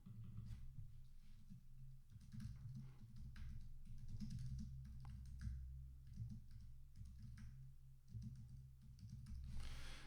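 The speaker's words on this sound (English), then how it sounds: "I say that as I type in all caps." Keyboard typing in a quiet indoor setting, a continuous run of soft, closely spaced key clicks lasting throughout, moderately near, with a low background hum beneath.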